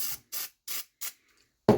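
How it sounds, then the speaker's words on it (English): Lubricant sprayed onto recoil starter parts of a small engine: four short, even hissing bursts in steady rhythm, then a brief knock. "I just like to use this one just because it works good, and spray the parts here."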